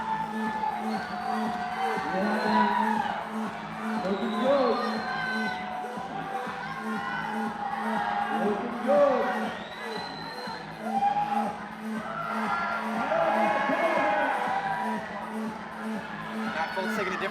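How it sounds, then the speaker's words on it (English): Spectators cheer and shout throughout a USA Climbing National Cup bouldering competition, a sustained roar of crowd noise with whoops and children's shouts rising and falling, while a commentator talks over it. "The crowd is getting psyched."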